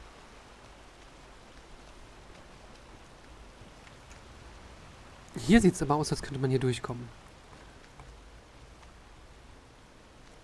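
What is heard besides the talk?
rain in the video game Skyrim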